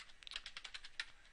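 Quick burst of router configuration commands typed on a computer keyboard, crisp clustered key clicks in an uneven rhythm, close and fairly quiet with no talking.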